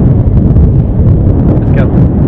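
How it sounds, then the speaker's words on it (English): Wind blowing steadily across an open golf course, a loud constant rushing buffet on the microphone throughout with no clear gaps. "Into the breeze. Into the wind."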